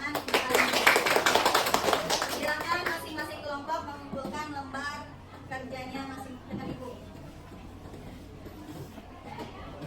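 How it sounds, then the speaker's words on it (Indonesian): A classroom of students claps together, a burst of applause strongest at the start that fades into chatter and a teacher's voice. "Ya, tepuk tangan."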